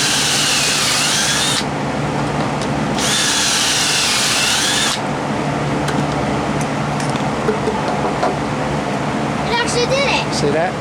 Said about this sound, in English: this is going to kind of drill on a slight angle